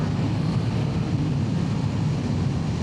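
Suzuki GSX-8TT retro motorcycle out on a ride, a steady, unbroken roar of engine and wind rumble throughout, with no distinct gear-change blip standing out.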